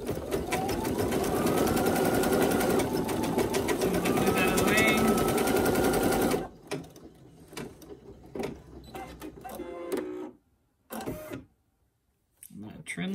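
Home embroidery machine of the SE1900, PE800 or PE700 type stitching a snap tab, a loud steady rapid mechanical chatter for about six seconds before it stops, followed by quieter handling noises and brief pauses.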